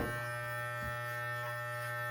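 Electric hair clippers hum steadily and close up throughout during a home fade haircut, a constant motorized buzz with no pauses and no talking.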